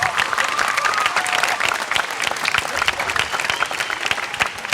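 A church congregation claps steadily for a group of teenagers, a dense, sustained round of applause that fills the whole stretch without any speech.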